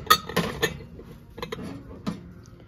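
A glass candy dish of an unusual shape being handled in a shop, giving a few light clinks and taps, close and fairly quiet, spaced irregularly with soft handling noise between them.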